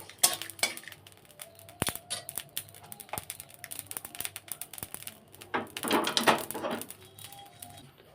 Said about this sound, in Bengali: এই গোলমরিচ জিরে আর শুকনো লঙ্কাটা ভালো করে ভেজে নেব